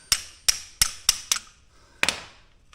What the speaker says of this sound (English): I got a little hammer here to help me.